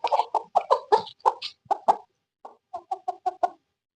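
A bright red rooster gives a run of short, close clucks in quick rhythmic bursts, pausing briefly before a final cluster of softer clucks, with no talk over it.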